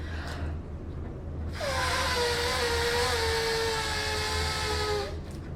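A rubber balloon being blown up by mouth to power a balloon hovercraft, giving a steady, loud rushing of air with a rising whistling tone for about three and a half seconds, with no talking.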